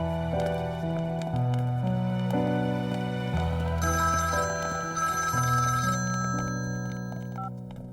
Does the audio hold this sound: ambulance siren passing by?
no